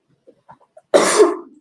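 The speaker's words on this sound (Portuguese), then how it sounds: "Desculpa, gente, pela tosse." A single harsh cough bursts out after a few faint soft sounds, loud and close, trailing off over about half a second.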